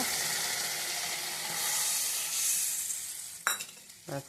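Water poured into a pan of frying vegetables, with fried fish and okra in the kitchen: a steady loud sizzle and hiss, then two sharp bursts of spattering at the end.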